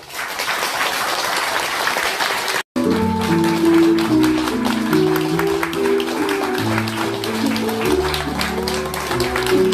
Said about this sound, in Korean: 결혼식을 하객분들의 축복의 박수로 시작하도록 하겠습니다